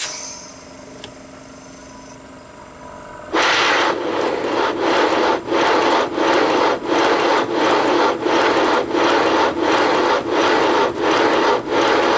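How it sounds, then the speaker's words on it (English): An air compressor kicks on while powering a 3.5-inch gauge Princess Marina model steam locomotive. A quiet background gives way abruptly to a loud, steady, rhythmic pulsing chug close by. "You can hear the air compressor pop in there."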